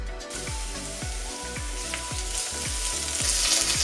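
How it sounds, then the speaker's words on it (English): Onion frying in cooking oil in a pan on a hob for pumpkin soup: a loud, continuous sizzle up close, swelling slightly toward the end, with no voices. "Now into a pan on the hob we put a little bit of cooking oil, followed by the onion."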